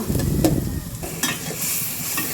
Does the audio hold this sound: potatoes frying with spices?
yes